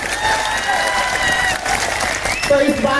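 A crowd at an RLP political rally bursts into sustained applause, dense clapping mixed with cheers and shouting voices, loud and close throughout.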